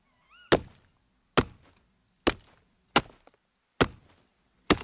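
An axe chops wood in the survival video game SCUM, six sharp, loud thunking strikes at a steady pace with brief woody decay between them, heard alone with no talking.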